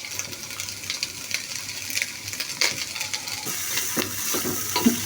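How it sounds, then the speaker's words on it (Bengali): Egg fried rice with mixed vegetables is stir-fried in a pan, giving a soft, continuous sizzle with light scraping and clinking of a utensil against the pan, fairly faint and close. "এই যে সবগুলো মিশিয়ে ভালো করে ভাজে নেব।"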